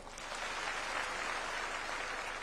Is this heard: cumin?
no